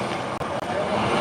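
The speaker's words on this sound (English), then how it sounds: "That's Pierre's friggin' plane running right there" An airplane engine runs loudly at a campaign whistle-stop rally as a continuous, heavy droning roar, with voices faintly mixed into the noise.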